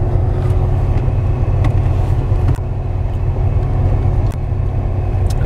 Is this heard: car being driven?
yes